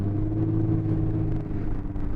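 A 2017 Lexus IS 350 engine revs steadily under a pressed pedal, a close, sustained low rumble with a faint rise, heard alone without talk.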